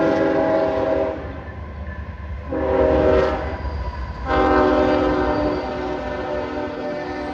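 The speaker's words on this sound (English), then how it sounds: "There are tracks. Obviously you can hear that. There's the train." A train rumbles past close by, its horn sounding in long blasts over the steady roar and clatter of the cars on the rails.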